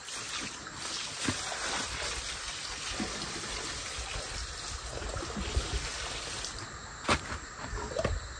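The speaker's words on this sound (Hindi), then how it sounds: "अभी ये मट्टी है इसमें पानी शानी डाल के इसको गीला कर रहे हैं" Water splashes and trickles onto soil being wetted for mud for a mountain house in Kashmir, an uneven close-up pouring with a few louder splashes and slaps near the end.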